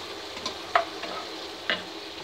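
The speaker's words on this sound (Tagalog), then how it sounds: "Gigisa ko na rin siya." Bell pepper sautés in a pan with a soft background sizzle and two or three crisp utensil scrapes and clinks, close and fairly quiet, with no talking.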